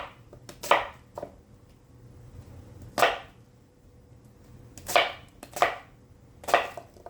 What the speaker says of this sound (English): chopping it up